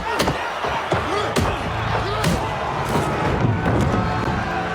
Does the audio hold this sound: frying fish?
no